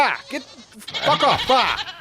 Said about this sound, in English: This is my favorite goat over here.